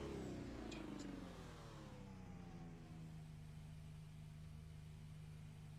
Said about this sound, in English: Let's rev the engine a bit.